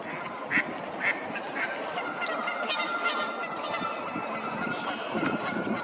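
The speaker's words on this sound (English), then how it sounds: "So here's some wood ducks." Wood ducks give short squeaky calls, a few scattered bursts over a constant hiss of outdoor background noise.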